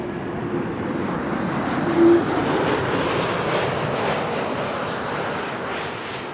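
KLM Embraer E195-E2 jet landing at Amsterdam Schiphol, a loud steady engine roar with a sustained high whistle running through it, alone without voices.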